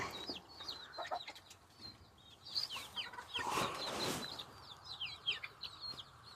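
Hens and roosters inside a coop cluck and chirp steadily, with calls overlapping at fairly close range and a few louder bursts midway over quiet background noise.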